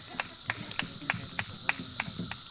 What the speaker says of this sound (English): Thank you, Cicadas.